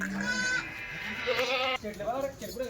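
Kathiawari goats on a Maharashtra goat-trading truck give loud, close bleats, one after another in wavering cries, with someone talking over them.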